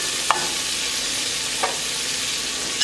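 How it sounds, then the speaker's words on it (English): Garlic sautés in a pan with a soft, continuous sizzle, broken by a couple of brief scraping clicks from stirring, all fairly quiet and close, with no talking. "Stir that up. I use about 2 tablespoons. Don't let that garlic burn."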